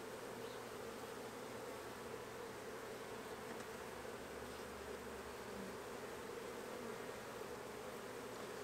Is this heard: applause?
no